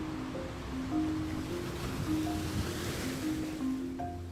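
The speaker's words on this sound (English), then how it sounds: "we heard the roar of the sea in the distance" A steady, distant roar of ocean waves washes across open sea, an even wash of surf with a faint wind-like hiss and no voices.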